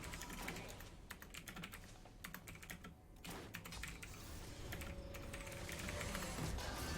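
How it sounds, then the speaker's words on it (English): Rapid, irregular typing on a computer keyboard during a game, keys clattering close and fairly faint in quick bursts with short pauses. "I was typing."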